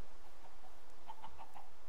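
Chickens clucking in the Minecraft video game, a few short soft clucks scattered through the middle of the stretch over a steady background ambience.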